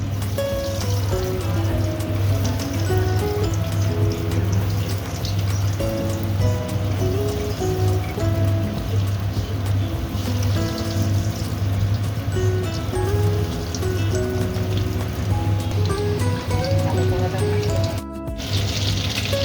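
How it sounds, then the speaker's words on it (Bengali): Bombay duck fish chops fry in hot oil with a steady, dense crackle that runs the whole time, over a constant low hum and faint background music. "তেলটা গরম হয়ে গেছে আমি এবার লোটে মাছের চপগুলো ছেড়ে দিচ্ছি"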